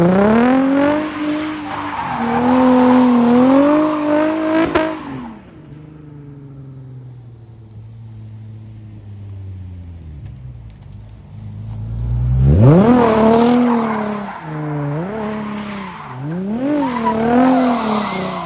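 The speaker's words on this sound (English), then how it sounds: "Fresh tires, already squealing." A car on fresh tires does donuts, its tires letting out loud, wavering squeals with skidding and engine revs. There is a lull midway, then the squealing surges back in strong, rising bursts.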